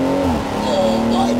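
A BMW 118i converted to a B58 engine launches from a standstill on launch control, with a loud close engine roar under excited talk.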